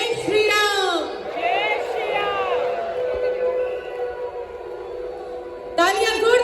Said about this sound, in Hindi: ये शंखनाद प्रभु श्री राम के पास पहुंच रहा है।